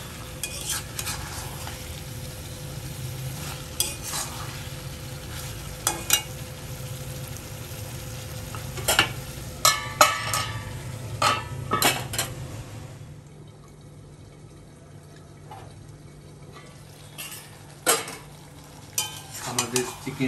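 Cabbage and chicken being stirred in a pan, with scraping and clinking strokes at irregular intervals over a soft background sizzle that quiets midway before the stirring resumes.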